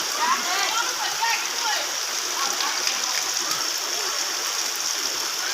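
Heavy rain pours down in a village as water rushes and splashes across the ground in a steady hiss that never lets up, with voices faintly audible beneath.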